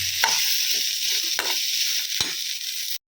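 Onions for tomato chutney frying in a pan, giving a steady loud sizzle with a few sharp scrapes of a spoon. It is close and continuous and cuts off abruptly at the end, with no talking.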